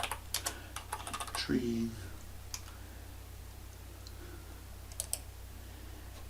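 Quick, crisp taps on a computer keyboard come in short irregular bursts, close to the microphone, and a brief spoken word cuts in between them.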